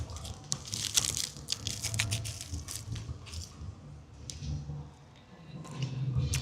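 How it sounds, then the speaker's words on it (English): Crunchy bites into a churro outdoors at an Olvera Street Cinco de Mayo celebration in Los Angeles, several sharp crackling crunches and chewing over a steady crowd murmur. "I'm gonna see if you can hear the crunch."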